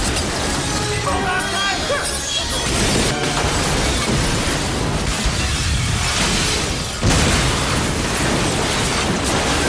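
A loud, continuous roar of blasts and crashing debris from an explosion scene in the 2001 film Thirteen Ghosts, with rumbling bursts and a sharp boom near the end, dense and chaotic throughout.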